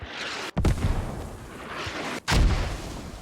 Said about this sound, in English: Some very effective mortars there.